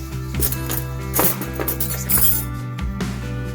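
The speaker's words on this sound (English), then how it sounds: "I'll have to give it a little stir, help the cheese start getting melted." A metal spoon clinks repeatedly against a bowl while stirring chicken tortilla soup topped with cheese, with light, irregular taps over a steady background hum.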